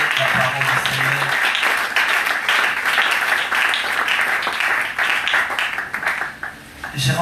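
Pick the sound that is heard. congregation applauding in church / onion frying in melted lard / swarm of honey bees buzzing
congregation applauding in church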